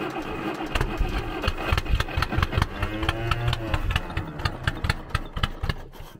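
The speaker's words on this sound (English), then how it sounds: "It's turning over, but it's really slow." Pony engine of a Caterpillar D8 dozer cranks slowly and laboriously, a loud, close, rhythmic chugging of evenly spaced strokes that never quite catches.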